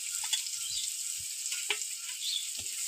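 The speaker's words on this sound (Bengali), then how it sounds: "পেঁয়াজটা ভাজা হয়ে গেছে" Chopped onion and garlic fry with bay leaf and panch phoron in a pan, giving a steady bright sizzle with occasional soft stirring clicks.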